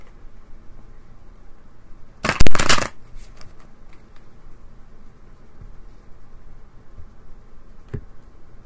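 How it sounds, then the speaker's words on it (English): Tarot cards shuffled in a short, loud riffle lasting under a second, followed by a few faint handling taps and a single soft thump against quiet background hiss. "Let's give it a good shuffle."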